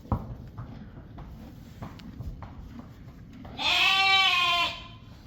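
Faint shuffling and hoof-like steps, then a sheep lets out one loud, close bleat near the end.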